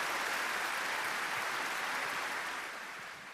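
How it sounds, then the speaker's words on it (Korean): A hall audience at an Atomy gathering gives a Korea Compassion sponsor a welcoming round of applause, a dense, even wash of clapping that fades slightly toward the end, with no voices. "큰 박수로 환영해 주시기 바랍니다"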